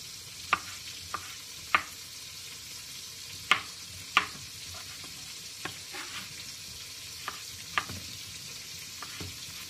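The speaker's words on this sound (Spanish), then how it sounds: "vamos a ponerlo en el aceite" Mojarra fish frying in hot oil, a steady close sizzle broken by sharp irregular pops and crackles spaced a second or so apart, with no voices.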